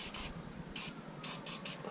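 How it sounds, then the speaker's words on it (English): Several short bursts of MAF airflow sensor cleaner are sprayed onto the air filter of a VW T5 van, each hissing spray lasting a fraction of a second, loud and close, with brief pauses between them. "give it a quick spray with the MAF airflow sensor"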